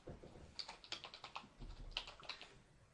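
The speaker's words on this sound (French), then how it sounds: "Et là, je vais taper prévoyance." Rapid, irregular typing on a computer keyboard during work in accounting software, close and clear with a steady run of keystroke clicks and no voices.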